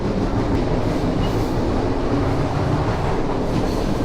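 The Rupashi Bangla Express passenger train runs from Dhaka toward Benapole with a loud, steady, low rumble and dense rattling of the carriage, heard from inside the train without pause.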